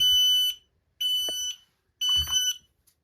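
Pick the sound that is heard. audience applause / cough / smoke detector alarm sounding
smoke detector alarm sounding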